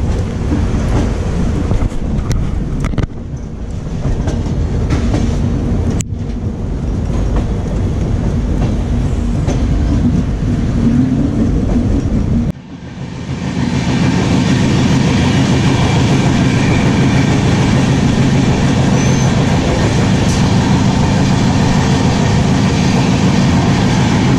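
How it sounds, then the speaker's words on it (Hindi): The Howrah Malda Town Intercity Express runs on its rails, heard from inside an AC chair car: a loud, steady rumble and rattle of wheels and carriage with brief shifts in tone. "train journey"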